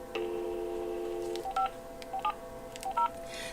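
Touch-tone keypad beeps as a phone number is dialed: one long tone followed by a string of short, evenly spaced beeps, clear and close against quiet background hiss.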